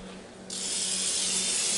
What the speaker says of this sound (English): this here is a pump-up sprayer that I've got. It's Food Network pump-up sprayer, and it's full of olive oil.